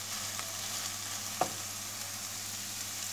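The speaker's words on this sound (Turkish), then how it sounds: "1-2 dakikada soğan ve sarımsaklarımızı kavurmaya devam ettik" Onions and garlic sautéing in a pan, a steady soft sizzle throughout with one brief louder clack of stirring near the middle, no voices.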